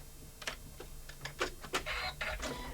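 An embroidery machine stitches an in-the-hoop small wallet, giving off irregular mechanical clicks and short whirring bursts, close and fairly quiet.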